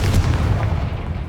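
A Confringo fire spell blast in the Hogwarts Legacy video game, a dense, continuous booming burst with heavy low rumble that stays loud throughout, with no talking over it.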